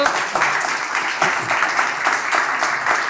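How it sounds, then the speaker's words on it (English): An audience at a startup pitch event applauds in a short burst of dense clapping that rises and falls over a few seconds. "Give them a warm hand of applause."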